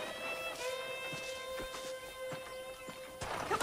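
Horse hooves clip-clop at a walking pace in the Red Dead Redemption video game, a run of soft, regular hoofbeats under sustained musical tones.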